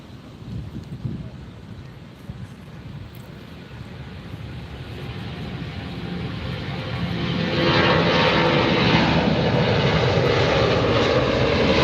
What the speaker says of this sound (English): A340 headed to Frankfurt. This is Lufthansa Flight 451.